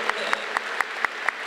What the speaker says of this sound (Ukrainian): І прошу оплески для наших воїнів.